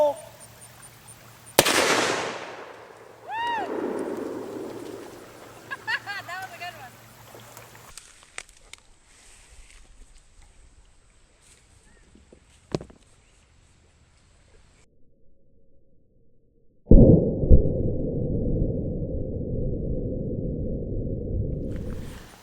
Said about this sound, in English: That is what a 450 Bushmaster can do to a watermelon or zucchini